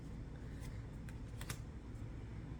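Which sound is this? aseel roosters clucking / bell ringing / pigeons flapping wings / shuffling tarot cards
shuffling tarot cards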